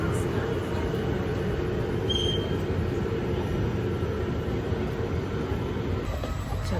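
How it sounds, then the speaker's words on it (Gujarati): Steady rumble of a double-decker passenger train running in Italy, a dense continuous rolling roar with faint high squeals, heard from inside and close throughout. "ડબલ ડેકર ટ્રેન છે, ઉપર બી લાઈન છે, નીચે બી સીટની લાઈન છે ને."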